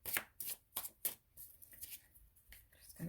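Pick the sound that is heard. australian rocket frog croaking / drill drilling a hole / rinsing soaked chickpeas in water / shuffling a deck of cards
shuffling a deck of cards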